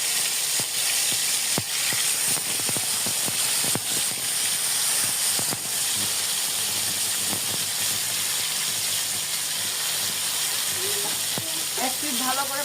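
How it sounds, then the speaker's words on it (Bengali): Fish sizzling in mustard oil in a frying pan, a loud continuous crackling hiss with scattered pops and spatters. "আমরা মাছগুলো সরিষার তেল দিয়ে ভেজে নেব।"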